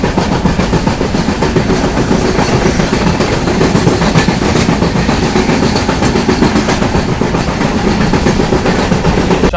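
Konkan Kanya Express running on rails near the Zuari River in Goa, a steady loud rumble with continuous clickety-clack of wheels throughout, close and uninterrupted.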